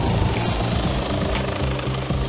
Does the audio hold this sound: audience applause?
no